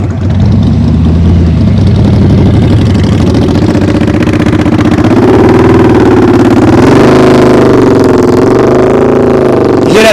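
A motorcycle engine during slow-speed riding practice, loud and near, idling then rising and falling in throttle blips that swell toward the end.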